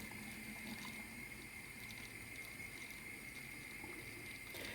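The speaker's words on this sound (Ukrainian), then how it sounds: "Закипіла в мене водичка. Ось я зараз легенько налію." Freshly boiled water is poured gently over pickling cucumbers, a steady close stream that fills the container at an even level throughout, with no talk.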